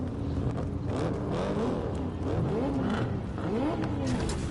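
Engine of a car in Cyberpunk 2077 droning steadily throughout, with rising and falling revs sweeping up and down under a continuous mechanical hum.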